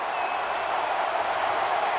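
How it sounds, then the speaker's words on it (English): Game crowd noise from an NCAA 14 college football matchup, Tennessee at Alabama: a dense, steady wash of stadium cheering, loud and unbroken, with a faint whistle-like tone drifting over it. "And this crowd is going absolutely crazy."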